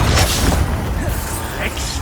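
A Confringo explosion spell bursts in Hogwarts Legacy, a heavy low rumbling blast with crackling debris that swells and holds for about two seconds, with game sounds around it.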